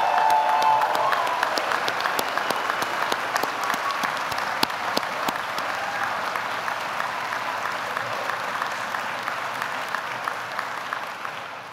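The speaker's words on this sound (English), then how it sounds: "Let's have another round of applause for the Patrick Leahy Honors College Scholars." A university audience applauds honors college scholars at a recognition ceremony with a full, steady round of clapping from many hands that starts strong and gradually tapers off over several seconds.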